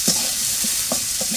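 Onions sizzle steadily in a frying pan, close and continuous, broken by several quick metallic stirring scrapes as a spatula moves them around for a tomato and onion bhuna.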